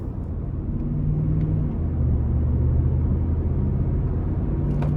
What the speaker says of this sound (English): So starting the test drive in this F-150 here, the V8 feels stronger